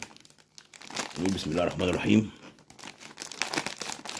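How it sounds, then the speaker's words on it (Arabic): A plastic bag of Lulu Puffs tomato-flavoured snacks is crinkled and torn open close up, with rustling that keeps on under and after a man's speech. "نفتح الكيس التاني"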